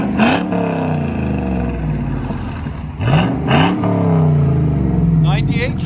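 A 1998 Chevy Camaro SS with a 5.7L LS1 V8 and Borla axle-back dual exhaust idles with a deep, close rumble and gets two sharp revs that rise and fall, with a voice talking over it.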